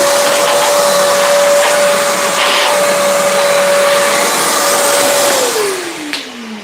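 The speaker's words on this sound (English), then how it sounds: "I'm just gonna do a quick vacuum out of this." A shop vacuum cleans out a freshly drilled bowling ball with a loud, steady broadband roar and a constant whine, which slides lower in pitch as the motor spools down near the end.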